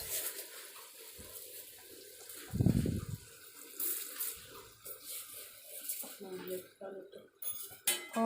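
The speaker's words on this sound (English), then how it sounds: "Now I'm adding the rice." Dry rice poured into a metal pot for veg pulav in a home kitchen, a brief loud rattling rush, surrounded by clinks of utensils and running water, with talking nearby.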